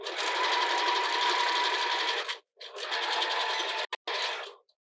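A sewing machine stitches a sports bra band in fast, continuous runs, pausing briefly between bursts before a couple of short final stitches, close and loud.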